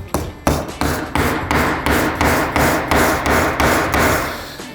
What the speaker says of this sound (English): Now I'm just going to hammer it in, right?